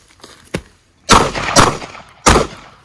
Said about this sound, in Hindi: अब ये मैं एम करके फायर नहीं कर रहा हूं, डायरेक्शनल फायर कर रहा हूं